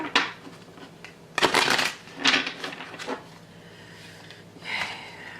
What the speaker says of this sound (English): I think with that, I'm going to do one more shuffle.